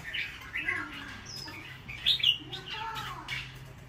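A wild-caught red-whiskered bulbul, around two seasons old, sings in short bright chirping phrases with several louder bursts, heard near and fairly clear against a quiet background.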